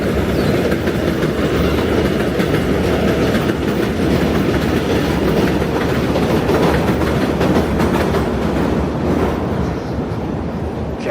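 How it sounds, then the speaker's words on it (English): A loud train rumbles past close by on an elevated track in New York City with steady clickety-clack of wheels over rails, a continuous roar filling the whole stretch. "To get used to the trains, I mean, it's loud for me."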